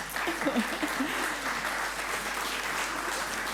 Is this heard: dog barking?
no